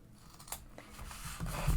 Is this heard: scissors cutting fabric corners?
yes